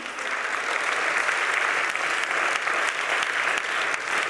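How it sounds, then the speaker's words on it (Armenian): An audience at a comedy show claps for a performer, a dense steady wash of applause from many hands that keeps going at an even level. "ծափար եք Աննային"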